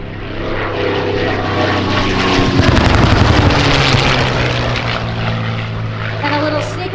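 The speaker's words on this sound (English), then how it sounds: "We are showing you their P-51D named the Cincinnati Miss." P-51D Mustang warbird "Cincinnati Miss" making a loud close flyby at a 2025 warbird airshow, its piston propeller engine roaring steadily and building to a peak midway before easing off, with faint voices underneath.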